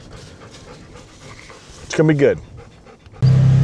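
A dog pants steadily from the seat right beside the listener, close and fairly loud, with a short burst of speech in the middle and a louder low rumble at the end.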